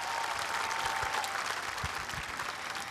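A crowd at the memorial ceremony for the tenth anniversary of former president Roh Moo-hyun's death keeps up steady, sustained applause throughout, sounding somewhat distant and even, with no talking.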